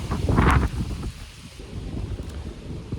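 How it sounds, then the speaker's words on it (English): Outdoor wind buffets the microphone in Georgia with a loud low rumbling gust at the start, then a steadier softer blowing. "this place is more windy than I was hoping it to be"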